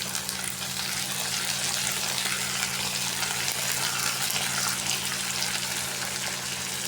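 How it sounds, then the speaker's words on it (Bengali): Shrimp frying in oil with onion for a curry, a dense, loud, even sizzle that holds steady at close range with no one talking. "ভাইজা নিব একটু চিংড়ি মাছগুলো"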